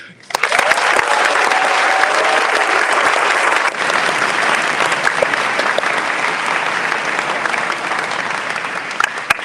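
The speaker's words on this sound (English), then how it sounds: "let's just give Nico a big cheer." Loud, sustained applause and cheering from an audience at the Green & White Awards ceremony, dense clapping that fills the whole stretch and eases slightly partway through.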